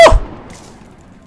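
A single loud, sharp gunshot in the XCOM video game cracks right at the start, then decays quickly into a faint tail.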